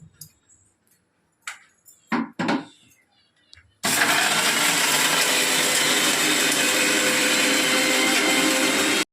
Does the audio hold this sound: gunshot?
no